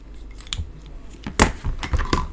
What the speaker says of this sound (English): Grab my ribbon scissors.